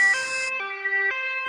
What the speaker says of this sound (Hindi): कालू आगे आगे उड़ रहा था और एम्बुलेंस पीछे पीछे आ रही थी।